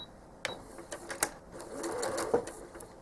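Quilting sewing machine stitching a feathered border, heard as faint, quiet bursts of rapid needle chatter with small clicks between short pauses, close by in a quiet room.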